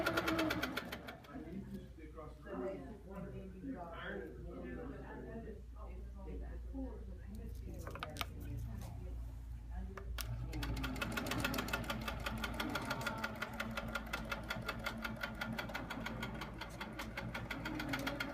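A quilting machine on a Pearl frame bastes a quilt top to its batting and backing with a steady, fast mechanical stitching hum that grows louder and more even partway through, with speech over the earlier part.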